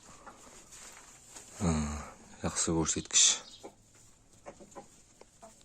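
Adler breed and domestic hens in a yard give a few close clucks and calls between short bursts of a man's speech, over a quiet background.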